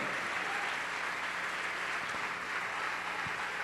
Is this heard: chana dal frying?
no